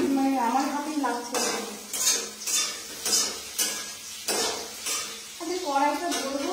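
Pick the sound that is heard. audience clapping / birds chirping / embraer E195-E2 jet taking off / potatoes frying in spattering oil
potatoes frying in spattering oil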